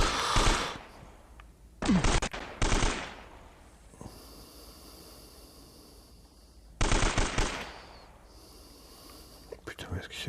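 Automatic gunfire from the video game Uncharted, several loud bursts of rapid shots separated by quieter stretches of game ambience, with someone speaking in between.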